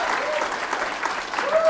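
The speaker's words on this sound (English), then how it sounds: "Give them one more big round of applause." A comedy class audience fills the room with steady, loud applause, dense continuous clapping from a crowd throughout.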